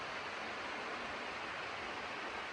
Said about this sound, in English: Nice waterfall there, dropping below us.